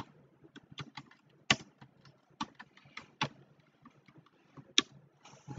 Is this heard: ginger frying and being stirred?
no